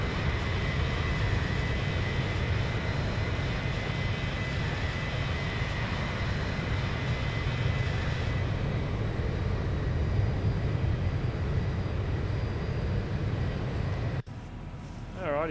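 Boeing 737 (Zibo mod) climbing out of Melbourne in the X-Plane 11 flight simulator: a loud, steady roar of engines and rushing air that holds for about fourteen seconds before cutting abruptly to a quieter hum.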